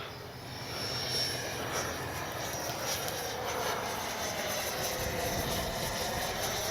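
Turbine whine of an FMS Avanti S 70mm electric ducted-fan RC jet in flight, a steady rushing roar that holds at an even level for several seconds with wind buffeting.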